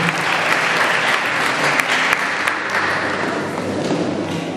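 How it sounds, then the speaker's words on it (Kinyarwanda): Steady, dense applause from a wedding reception crowd, loud and close, sustained throughout with a few sharper claps standing out. "kugira ngo tubongere amashyi menshi cyane"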